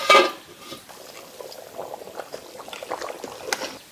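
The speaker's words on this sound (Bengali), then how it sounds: "হাঁসের মাংস তো সেদ্ধ হইতে একটু সময় লাগে" Duck meat bubbling as it boils in a pot on a clay stove, a soft continuous simmer with scattered pops and gurgles, close and fairly quiet, with no talk.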